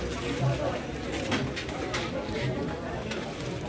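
Pigeons at a bustling market in Madhyamgram, Kolkata, cooing in low soft bursts amid constant crowd chatter and general bustle, with someone talking close by throughout.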